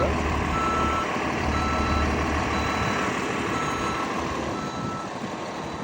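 Repeated reversing beeps sound over the steady rumble of a large idling vehicle, continuous and fairly close throughout.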